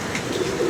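A pigeon coos close by in a short, soft, low call that stands alone.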